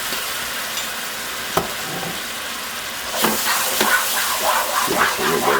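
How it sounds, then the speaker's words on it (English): Sweet vermouth hitting a hot pan used for lobster, sizzling and hissing while being stirred, with a sharper burst of steam partway through, close up and with no talking. "Deglaze that pan like that."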